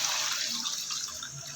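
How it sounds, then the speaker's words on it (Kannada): Water is poured onto washed rice in a vessel so it can soak, making a soft, steady splashing rush that stays fairly quiet throughout. "ಇವಾಗ ಇದಕ್ಕೆ ಫುಲ್ ನೀರು ಹಾಕಿ ಇಡೋಣ"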